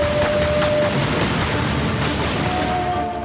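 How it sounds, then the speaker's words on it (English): Rapid gunfire from a 2007 dinosaur-hunting video game, a continuous dense burst of shots fired from small pistols, loud and steady throughout with no talking over it. "shooting massive dinosaurs with tiny pistols"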